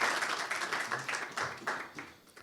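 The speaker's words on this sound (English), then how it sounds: "I think you can give COSAC an enthusiastic round of applause" An enthusiastic round of applause from a conference audience at opening remarks, steady dense clapping with rhythmic surges throughout, fairly close and full.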